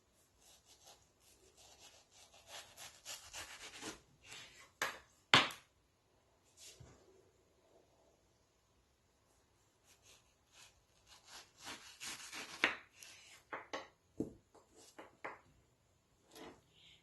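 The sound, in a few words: knife cutting fruit flesh around a large pit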